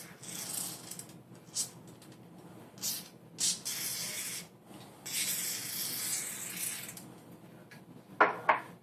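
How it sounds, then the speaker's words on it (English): Several short bursts of CLP lubricant aerosol spray hiss into the trigger group of a Smith & Wesson M&P 15-22 rifle, spaced irregularly, then a longer spray, followed by a couple of faint metallic clicks; quiet and close. "spray some of the CLP into your trigger group"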